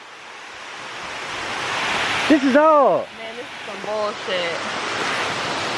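Steady broadband rush of a small waterfall in the woods, loud and continuous throughout, with a voice speaking briefly over it in the middle.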